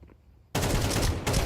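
Gunfire in the video game Counter-Strike 2, a near silence broken abruptly by a loud rapid automatic burst that continues to the end, with a brief dip just before the final shots.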